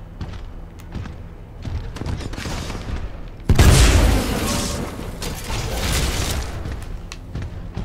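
Gunfire in the video game Titanfall 2 during a boss fight: bursts of shots and heavy booming thuds, loud and close, growing denser halfway through, with no talk over it.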